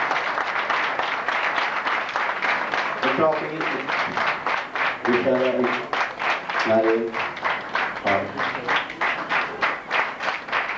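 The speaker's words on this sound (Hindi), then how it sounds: "जोरदार तालियां" An audience at an award ceremony gives loud, sustained applause for a prize recipient. The dense, rhythmic clapping fills the hall throughout while someone speaks over it into a microphone.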